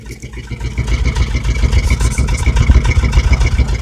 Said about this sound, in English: give y'all a little listen to the exhaust real quick